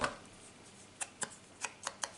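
Scissors cut the corners off a paper page for a Christmas album: a series of six or so faint, crisp snips in quick irregular succession, close by with no talking.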